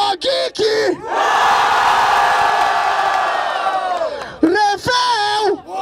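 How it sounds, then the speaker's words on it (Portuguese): Crowd at a freestyle rap battle final erupts in a long, loud roar of cheers and shouts, framed by a host's excited yelling at the start and end. "Barulho pra quem gostou das rimas do Geek!"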